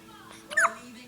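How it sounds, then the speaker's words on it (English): A young girl hiccups once, a short sharp squeaky burst standing out clearly near the middle over a quiet room with low background hum. "She always has hiccups."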